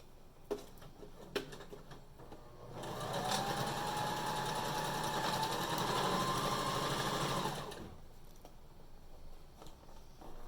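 A sewing machine top-stitches a fabric face mask, its motor running in one steady, fairly loud whir for about five seconds, framed by quieter handling clicks of the cloth before and after.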